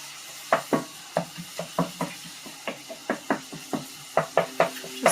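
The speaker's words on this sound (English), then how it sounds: "Just cooking up this lamb." Lamb cooking in a pan, with a quiet sizzle under a series of sharp utensil clacks and scrapes against the pan at an irregular, roughly half-second rhythm, close up and without talk.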